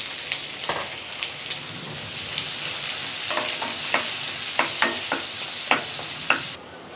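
Two finely chopped medium onions sizzle in hot oil for a restaurant-style mushroom masala, a steady broadband frying hiss broken by a series of sharp scraping clicks from stirring, close and moderately loud, stopping abruptly near the end.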